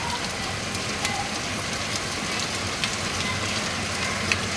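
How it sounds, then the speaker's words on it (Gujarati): Heavy torrential rain pouring down in Nadiad after two days of nonstop downpour, a dense, steady roaring hiss that fills the whole stretch without a break. "ખૂબ જ મુસળધાર વરસાદ 2 દિવસથી પડી રહ્યો છે"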